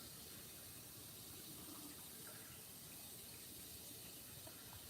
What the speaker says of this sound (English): So let's add some water because we are making homemade chicken stock.